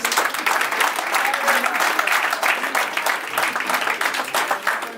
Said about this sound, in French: Sous les applaudissements.